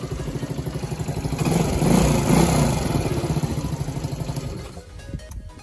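Lexmoto FMR 50 motorcycle engine idling from cold, a close, rapid puttering beat that swells briefly as it revs a little, then settles and cuts toward the end.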